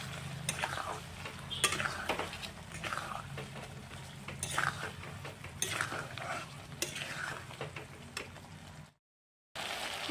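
Fried potatoes are stirred into masala in a pan for aloo dum, a spoon scraping and knocking against the pan in repeated strokes over a faint sizzle, close by, ending in a brief silence.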